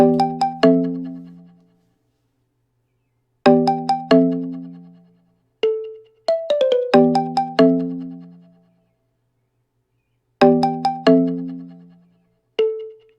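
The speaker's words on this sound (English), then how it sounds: "the first sound I have is a Marimba from that same Pluck one-shot kit" Bright marimba one-shot sample notes play a sparse melodic phrase in short clusters, each tone ringing and decaying, with silent gaps between groups.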